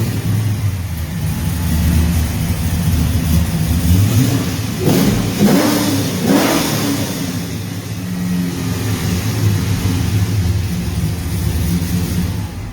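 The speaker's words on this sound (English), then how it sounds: "listening to the sound of an amazing motor in a muscle car" Deep, rumbling V8 engine revving, a steady low idle swelling into a couple of loud throttle blips before settling back, close and powerful.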